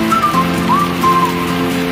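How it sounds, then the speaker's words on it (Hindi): Heavy rain pours down in a steady hiss, loud and close, while a faint wavering whistle rises and falls over it, with no voices. "बहुत तेज बारिश हो रहा है।"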